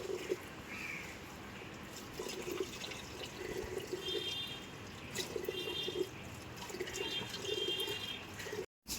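Rice being washed by hand under running water in a home kitchen, with a steady trickle and splash of water and intermittent swishing and clattering of grains, fairly close, with no talk.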